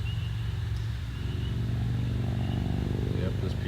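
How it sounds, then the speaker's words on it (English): A motorcycle passes outdoors on a road, its engine droning steadily and fairly close for a few seconds, with people talking over it. "There's a motorcycle driving by."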